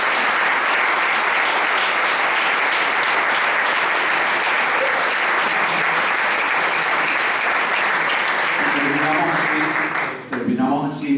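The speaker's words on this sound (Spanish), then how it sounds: "Quiero que le demos juntos un fuerte aplauso a todos los que han venido." A large audience at a diocesan synod round table in the Canary Islands gives a loud, sustained round of applause that fills nearly the whole stretch, thinning out near the end as a voice begins.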